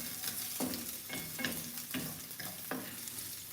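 Onions and vegetables sauteed in a pan, a soft steady sizzle broken by several rhythmic scraping stirs, close and quiet with no talking.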